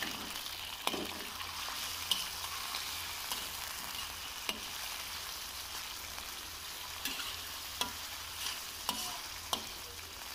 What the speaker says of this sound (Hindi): अब यहाँ पर हमने इस चिकन को फ्राई करना है